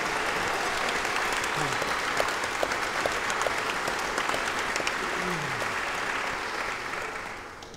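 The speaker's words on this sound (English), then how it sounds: "I think they deserve a big applause for this." Sustained applause from the audience at the Nisswa-stämman folk music festival's 20th anniversary, honoring the musicians. Dense, steady clapping fills the room, slowly thinning toward the end with a few faint voices underneath.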